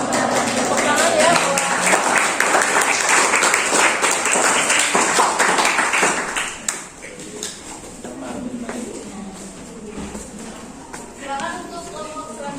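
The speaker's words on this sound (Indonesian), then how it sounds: "Tepuk tangan ya." Audience in a classroom clapping after a group presentation, a dense burst of applause for about six seconds that thins into scattered claps, with voices talking over it.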